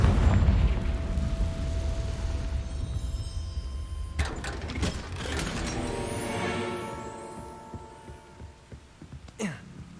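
A Confringo spell explosion in the Hogwarts Legacy video game lands with a heavy booming blast, then a low rumbling roar that thins into crackling debris and fades, with a sharp hit near the end.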